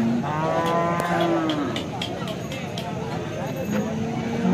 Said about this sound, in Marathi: चांगली गाय आहे. तयार गाय आहे.